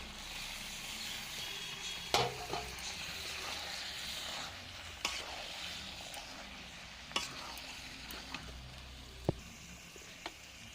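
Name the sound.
frying goat meat in spiced oil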